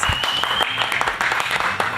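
An audience applauding a quiz team at a Bible quiz show, dense steady clapping that holds for the whole stretch.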